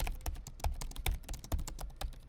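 Fingers typing on an Acer laptop keyboard, a quick irregular run of close plasticky key clicks, each keystroke crisp and distinct, with no speech.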